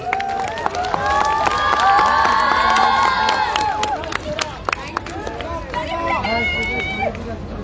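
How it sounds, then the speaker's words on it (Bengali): An audience at a festival grand opening claps and cheers loudly throughout, with shouting, excited voices and crowd babble rising and falling over steady applause. "একটা জোরে হাততালি হোক প্লিজ"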